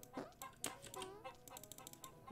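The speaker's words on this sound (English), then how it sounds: "why is there a chicken?" Chicken in the video game Dude Simulator clucks in a quick series of short, scratchy calls, fairly close and fairly quiet, with no talking.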